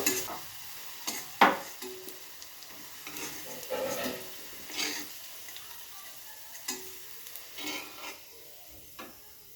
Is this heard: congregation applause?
no